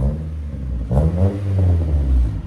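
A 2010 Nissan Altima 2.5L four-cylinder with a straight-pipe exhaust and 2.5-inch high-flow cat revs up close and loud, with a deep droning rise and a sustained hold after a brief idle.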